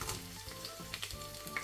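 Garlic cloves frying in hot olive oil, a steady close sizzle and crackle with brief pops and faint stirring, no voices.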